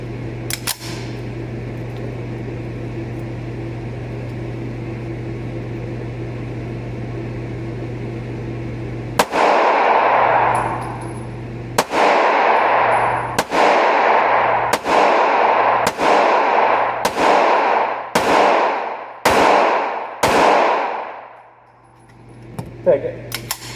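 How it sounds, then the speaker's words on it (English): A CZ pistol fires about nine sharp shots at a shooting range, evenly spaced over roughly ten seconds, each loud crack trailing a short ring, after a stretch of low steady background hum. "so I'll try to shoot out what's left."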